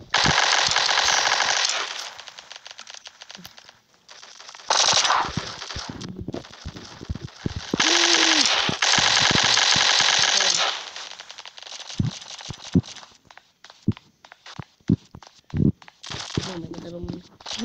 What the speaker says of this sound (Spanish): Mucha disparando.